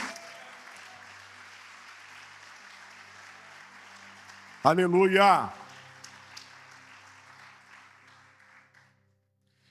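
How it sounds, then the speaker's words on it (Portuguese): A church congregation breaks into a short, loud burst of hand clapping midway through, between stretches of a preacher's amplified speech. "Você pode dar uma salva de palmas para Jesus?"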